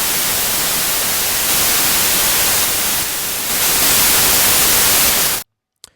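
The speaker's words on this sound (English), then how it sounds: "now I will start the noise generator" A noise generator compiled in Faust and running through Jack puts out steady, loud broadband hiss like static, shifting slightly in level, then cuts off abruptly, followed by a faint click.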